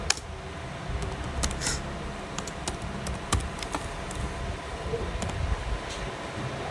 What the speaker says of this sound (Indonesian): lalu kita ketik slip gaji karyawannya